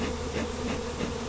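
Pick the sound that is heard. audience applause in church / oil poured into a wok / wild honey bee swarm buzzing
wild honey bee swarm buzzing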